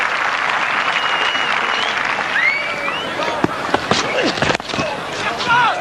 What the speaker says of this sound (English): Ravindu Shah getting some well-deserved applause here.